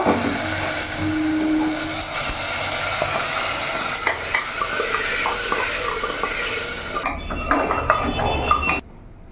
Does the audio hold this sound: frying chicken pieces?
yes